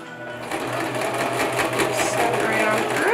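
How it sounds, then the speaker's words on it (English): Sewing machine stitching fabric for a face mask, its fast, even needle rattle running steadily and close, with a person talking over it. "Back to the sewing machine."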